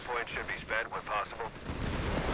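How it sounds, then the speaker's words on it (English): Sniper fire in the real-time strategy game Company of Heroes 3, heard as a few sharp, mid-distance reports spaced in a halting rhythm over battlefield noise, followed by a low rumbling swell. "Sniper picking away."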